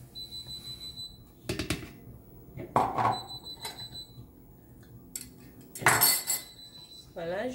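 Flour, salt and sugar being stirred together in a bowl for flour fritter batter, with scattered metallic clinks and scraping taps of a utensil against the bowl, close, between quiet pauses.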